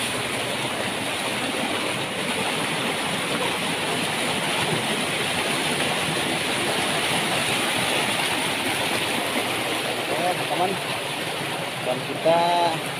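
Steady broadband rush of a waterfall plunging down a cliff face, continuous and loud from start to finish, with a few faint tonal chirps near the end.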